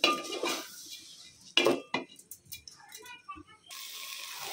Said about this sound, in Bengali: চালটা আমি ভালো করে একদম ভেজে নিচ্ছি মশলাগুলোর সাথে